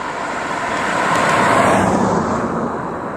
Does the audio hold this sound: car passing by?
yes